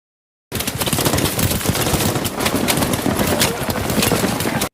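Rapid machine-gun and rifle fire from a war film scene of American soldiers shooting, loud dense bursts rattling continuously after a brief silence, with no talk.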